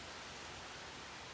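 Steady, dense hiss of heavy, windy rain pouring down without a break, quiet and even throughout.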